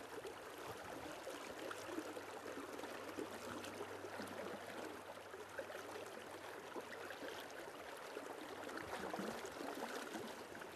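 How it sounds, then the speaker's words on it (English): River Wharfe with plenty of water flowing while fishing, a steady broadband rush of moving water with a low hum underneath, constant and fairly quiet, no talking. "I'm now fishing on the River Wharfe."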